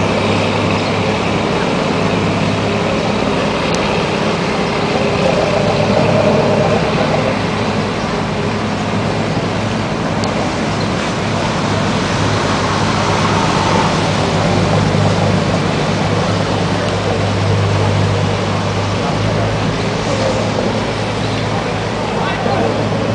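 Motor boats engines rumbling steadily along a busy Venice canal, a continuous low drone with passing hulls and water wash, voices talking faintly in the background.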